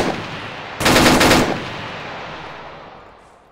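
A short, loud burst of rapid automatic gunfire in ArmA 3, lasting under a second, then a long echoing tail that slowly fades.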